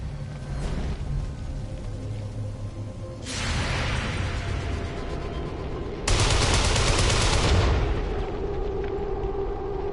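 Video game combat rages with bursts of automatic gunfire and booming blasts, two loud sustained volleys swelling over a rumbling background, with no talking.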